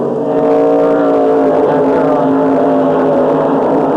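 A 1988 NASCAR stock car at Watkins Glen roars past close by, a loud sustained engine drone with a steady high-revving pitch and no talk.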